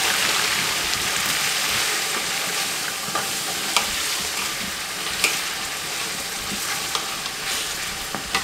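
Small chicken pieces fry on a medium flame with browned onion, garlic and ginger in a village-style white karahi. A steady sizzle continues throughout, broken by occasional sharp clinks and scrapes of stirring.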